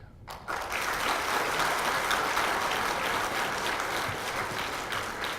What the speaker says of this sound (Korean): 여러분의 이 격려의 박수에